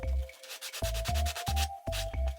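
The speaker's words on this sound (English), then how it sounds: "run it over the sandpaper several times to smooth out the chamfer on the end" A wooden carver's mallet has its chamfered end rubbed over sandpaper in four loud, close, rhythmic back-and-forth strokes.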